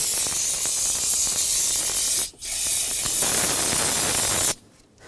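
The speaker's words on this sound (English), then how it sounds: "Use a little brake parts cleaner. Just clean up any residual." Brake parts cleaner sprays from an aerosol can in two long, loud hissing bursts with a short break between them, then cuts off into near silence. The work is a brake master cylinder replacement on a 2011-2018 Volkswagen Jetta.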